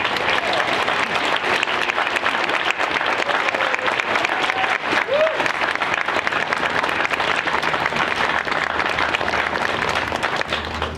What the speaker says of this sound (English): please give your applause for those students